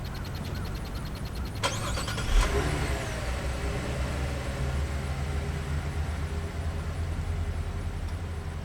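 A 2017 Buick Enclave started by remote start: a brief cranking burst catches into a steady, quiet idle that hums on evenly, heard from nearby outside the vehicle.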